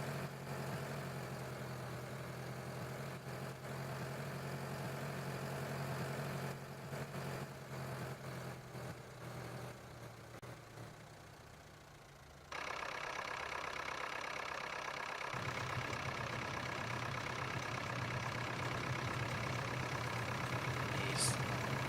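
Tractor engine from Farming Simulator 2013 running steadily with a low idling drone and hum; partway through the tone shifts and the engine noise brightens and continues unbroken.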